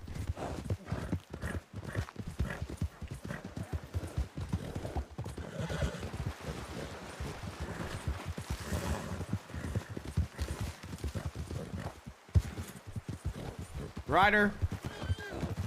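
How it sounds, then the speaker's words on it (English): Horse hooves clip-clop in a quick, steady rhythm throughout in a Red Dead roleplay game, with a horse whinnying near the end and voices talking over it. "I need you to stop that fucking horse."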